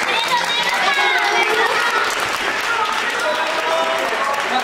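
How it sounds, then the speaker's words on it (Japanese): An audience at a Fukuoka local idol event applauds warmly in a steady, dense wash of clapping, with crowd noise and a voice over it. "拍手、そして相手の皆様にも温かい拍手をお願いください"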